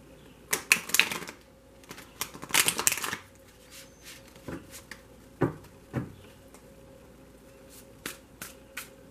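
A loud tarot card deck shuffled close up: dense riffling bursts early on, then sparser crisp snaps and flicks trailing off, with no talk over it.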